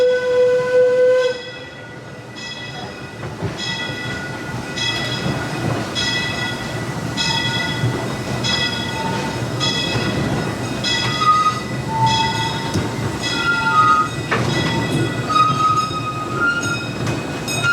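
The Disneyland Railroad steam train rolls along loud and close with a continuous rumble and clatter of wheels and cars, its whistle sounding in sustained tones throughout.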